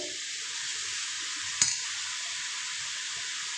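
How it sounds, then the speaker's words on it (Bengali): Garlic paste frying in a pan, a continuous bright hiss of hot oil with one sharp knock of a spatula against the pan partway through. "রসুন বাটা দিয়ে দিলাম রসুনটাও এক দু মিনিট একটু নেড়ে নেবো"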